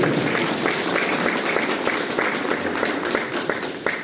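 Audience clapping at a spiritual gathering, a steady dense wash of applause sustained for about four seconds at even loudness, with faint speech mixed in.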